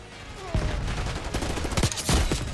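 Gunfire in the Call of Duty Black Ops 6 video game, a loud dense burst of rapid shots and impacts, including a headshot, filling the whole moment.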